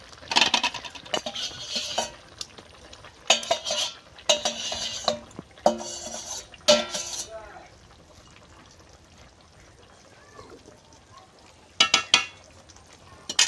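Boiled fish and water in a cooking pot are stirred in several short bursts of scraping and clattering, close by. Quieter stretches separate the bursts, and faint speech can be heard in the background.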